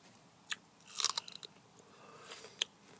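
A fresh, crunchy radish bitten and chewed up close: one sharp crisp snap, then a cluster of wet crunches and a last crisp bite, with no talking.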